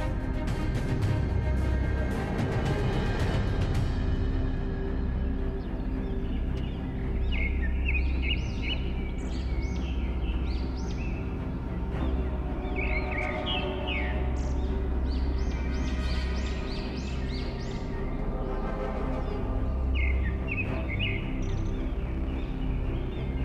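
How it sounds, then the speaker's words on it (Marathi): A forest on the trail to Gorakhgad fort in the Sahyadri hills of Maharashtra: a loud, steady rush of breeze fills the whole stretch while scattered bird chirps and calls rise faintly above it in short bursts. "मंद वारा, पक्ष्यांचा आवाज साथीला आहे."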